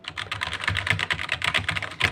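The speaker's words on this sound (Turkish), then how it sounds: "Görüyorsunuz yani duyuyorsunuzdur umarım mekanik bir klavye değil" Rapid typing on a non-mechanical computer keyboard, soft dense key taps in a continuous close-up stream without pauses or talk.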